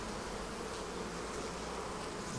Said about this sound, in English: Oh, a lot of bees in the top.